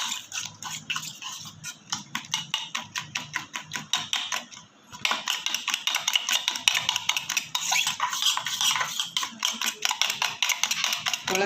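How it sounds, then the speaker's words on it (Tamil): Eggs beaten with salt and masala in a bowl for a bread omelette make rapid, even clicking strokes that run close and steady, stop briefly midway, then resume just as fast. "உப்பு மசாலா எல்லாம் ஒன்றா வர மாதிரி நல்லா பீட் பண்ணிக்கலாம்"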